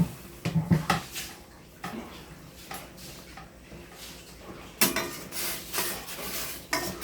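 Saluyot leaves and string beans stirred in a pot of boiling water, with scraping and clinking of a utensil against the pot in irregular bursts, close and clear, without talking.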